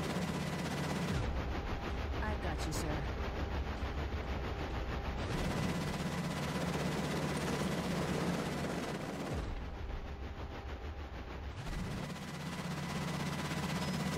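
Rapid, sustained gunfire from a weapon in Cepheus Protocol rattles in long bursts, with two short pauses between stretches of continuous shooting over a dense battlefield din.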